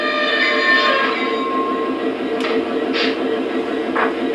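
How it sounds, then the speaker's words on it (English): Loud, sustained high-pitched squeal of brakes from a Lionel Legacy SD40-2 model diesel locomotive's sound effect over a constant rumble, with a few brief hissing bursts. "The squealing brake sounds."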